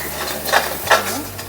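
Two quick spoon strokes scrape through a prawn biryani mixture with curry leaves in a pot over a low sizzle, close and brief.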